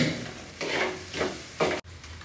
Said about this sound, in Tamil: கொட்டிட்டு நல்லா கிளறி விட்டுட்டு மசாலா போடணும்